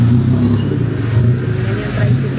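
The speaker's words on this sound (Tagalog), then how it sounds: "Tapos ito yung tricycle nila" A motor tricycle in Thailand passing on a busy street, its engine a loud, close, steady rumbling drone that swells slightly as it goes by.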